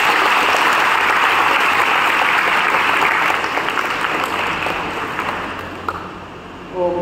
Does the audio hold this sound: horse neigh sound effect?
no